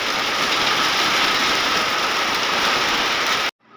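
Steady rain falls on a home in a Hindi-speaking household, a dense continuous hiss that holds evenly loud throughout before cutting off abruptly near the end.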